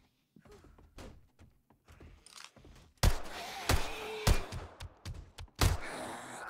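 Banging in the 7 Days to Die video game: irregular heavy thuds and knocks, quieter and scattered at first, then several loud sharp impacts at uneven intervals.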